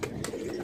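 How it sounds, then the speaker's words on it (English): A pair of pigeons in a loft coo softly, with short, breathy, repeated low coos close by and no talking. "I also like to share these two beautiful birds."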